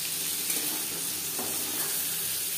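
Paneer fries in a pan with a steady, close sizzle, an even hissing bed of hot oil with faint crackles and no voices.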